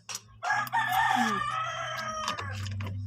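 A rooster crows loudly and close by in one long drawn-out call, with other hens clucking faintly around it.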